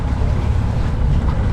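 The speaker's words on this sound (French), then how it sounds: "on a encore le moteur en soutien" A steady low sailboat engine drone mixed with wind and water noise under sail in the Balearic Islands, continuous and close, with no voices.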